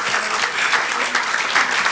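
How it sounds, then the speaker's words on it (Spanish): Congregation clapping during a church sermon, a dense, loud burst of applause filling the room, sustained evenly throughout with little voice over it. "Demos el aplauso a Dios, no a ella,"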